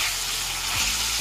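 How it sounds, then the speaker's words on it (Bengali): Chicken pieces fry in hot ghee in a kadai on the stove, giving a steady, close sizzle with no talking. "ঘি গরম হলে অল্প একটু মাংস দিয়ে মাংসটাকে ভেজে নেব"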